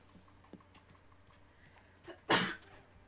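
A single sharp sneeze near the end, loud and close, after a quiet stretch with a few faint taps and clicks.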